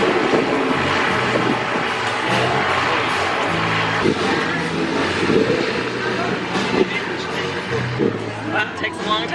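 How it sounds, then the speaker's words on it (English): A steady, broad engine roar of a seaplane taking off from water, building power slowly, continuous and fairly loud, with voices talking over it throughout. "Hey Susan, there's a plane taking off."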